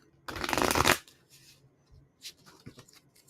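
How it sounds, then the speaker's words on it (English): Tarot cards riffle-shuffle in one quick, loud burst close to the mic, followed by a few softer card taps and handling sounds in near silence. "let me ask right now while I shuffle for Angie."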